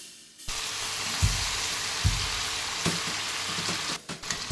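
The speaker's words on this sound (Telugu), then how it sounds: "ఇలా ఆయిల్ వేడెక్కిన తర్వాత టమాటా ముక్కలు వేసుకోవాలి" Tomato pieces frying in hot oil, a steady close sizzle with a few soft stirring knocks.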